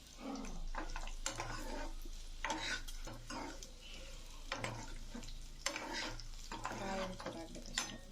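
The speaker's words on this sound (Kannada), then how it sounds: "ಇವಾಗೆಲ್ಲ ಶುಂಠಿ ತೆಂಗಿನಕಾಯಿ ಎಲ್ಲ ಚೆನ್ನಾಗಿ ಅದರಲ್ಲಿ ಎಣ್ಣೆಯಲ್ಲಿ ಫ್ರೈ ಆಗಬೇಕು." Ginger and coconut frying in oil in a pan for pongal, a faint steady sizzle with repeated scraping and stirring strokes of a spoon against the pan.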